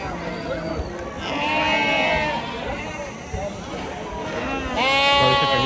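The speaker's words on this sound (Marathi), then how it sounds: "इकडं फार्मचे बकरे आहेत बघा आतमध्ये." Goats and sheep bleat at a large livestock market in Maharashtra, several loud wavering calls rising over a constant murmur of crowd voices.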